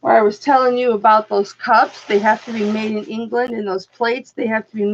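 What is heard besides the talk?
None of the usual background noises is heard.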